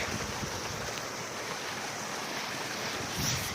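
Water pours steadily from a pipe fed by a large irrigation channel on a farm, a continuous broadband rush like a small waterfall, fairly loud and unbroken throughout with no talking.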